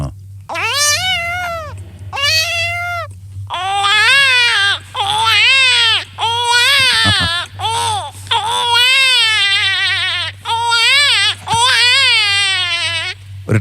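A voice mimics a cat whose meows gradually turn into a wailing, sobbing baby cry, in repeated loud bursts over a low hum.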